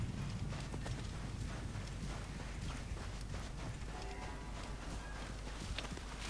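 Horse hooves clip-clop steadily and close in Assassin's Creed Origins, a continuous brisk beat over a dense, constant game soundscape with no talk.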